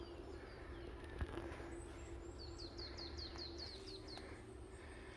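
Wild mountain birds sing in a spring forest: a quiet run of rapid, high chirping notes in quick succession midway through, over faint background hiss and a single soft knock.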